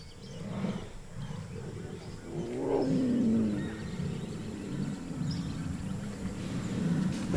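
A jaguar, the largest cat in South America, lets out a low roar from the forest, a rough rumbling call that swells midway through and holds at moderate loudness amid background wildlife noise.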